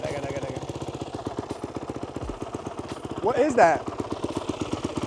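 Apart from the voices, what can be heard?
turbocharged BMW B58 engine running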